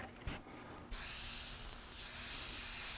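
An airbrush hose blows a sharp, steady hiss of air up close, starting after a couple of short bursts and holding to the end with no talk.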